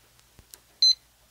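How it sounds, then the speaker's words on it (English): A kitchen-style timer being set gives one short, loud electronic beep after a few soft taps and clicks in a quiet room. "Let me set my timer."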